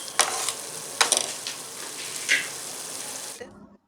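Spice powder being stirred into cooked rice for temple-style sesame rice, a few scraping strokes and soft sizzling hiss in a pan, ending abruptly, no speech.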